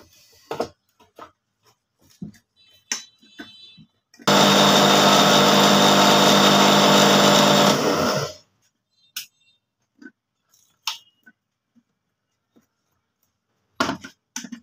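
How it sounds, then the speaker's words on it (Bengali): A blender grinding white pepper into powder bursts into a loud, dense whir for about four seconds, framed before and after by quiet handling knocks and clicks of the jar. "নাড়া দিয়ে আবারও ব্লেন্ড করব, যাতে পাউডারটা মিহিভাবে পাউডার হয়"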